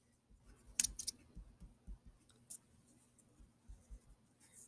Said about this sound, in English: I'm going to erase my outside lines